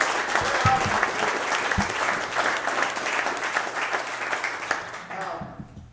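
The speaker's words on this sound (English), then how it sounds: "Give them a round of applause." A crowd applauds steadily for several seconds, dense clapping that fades away at the end.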